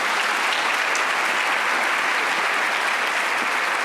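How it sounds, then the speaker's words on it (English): An audience applauds a panel at the close of a regional health meeting, with dense, steady clapping that holds evenly throughout and carries no talk over it. "let's give a round of applause to our panel."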